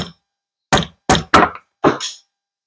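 Four sharp metallic steel-hammer strikes on a crankshaft during a 1998 Yamaha Warrior 350 engine rebuild, irregularly spaced, close and loud, separated by silence.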